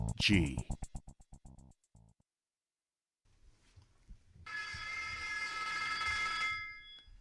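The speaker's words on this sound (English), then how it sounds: "the ringing of that phone bell brings you mystery, adventure" An old-style telephone bell rings in a rapid series of bursts, then falls silent before a droning tone swells in.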